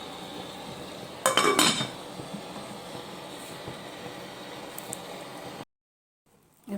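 A lid clanks down onto a metal pot of fish cooking on a stovetop, a short burst of clattering metal rising above a steady kitchen hiss, followed by near silence.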